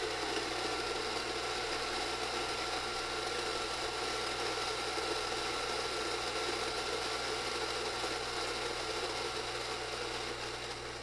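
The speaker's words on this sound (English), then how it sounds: "It's not a quiet grinder, but it's not horrifically loud either." A Rancilio Rocky coffee grinder runs continuously, a steady, dense mechanical whir and rattle of burrs grinding beans, moderately loud and uninterrupted with no talking.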